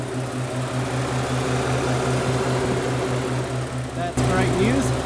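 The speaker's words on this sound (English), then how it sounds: "Both fans are running" Both electric radiator cooling fans whir steadily on a Porsche 944 being revived after sitting 14 years, a constant mechanical drone with a low engine hum beneath it and a brief clatter near the end.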